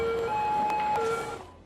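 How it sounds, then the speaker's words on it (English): An emergency vehicle siren in the city-building game Cities: Skylines wails loudly and steadily, with its two-tone pitch stepping up and down before fading slightly. "that's a very loud siren there, Jesus Christ"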